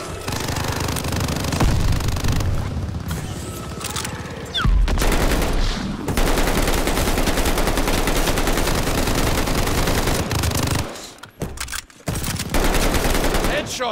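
Rapid submachine gun bursts in a Call of Duty: Vanguard Zombies match rattle loudly and almost without a break, with short gaps and muffled booms mixed in.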